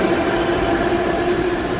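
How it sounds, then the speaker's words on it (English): New York City subway train arriving at the platform, a steady loud rumble with a sustained hum and faint wheel squeal filling the whole moment, no talking. "the train's coming finally"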